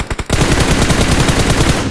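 Automatic gunfire in a video game scrim. A few quick shots, then a loud, sustained burst of rapid rattling fire close up.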